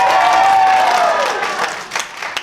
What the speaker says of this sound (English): Clap and cheer if you want that.